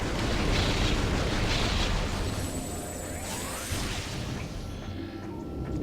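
A kinetic orb cannon in Metroid Prime 2: Echoes smashes through a structurally unsound wall. A loud sustained crash and rumble of breaking debris is followed by fading rubble and a faint high sci-fi whine.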